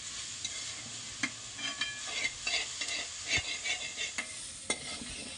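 Grated bottle gourd stirred and cooked in a pan, with a steady soft sizzle under repeated scraping strokes of a spoon, close and moderately loud, no talking.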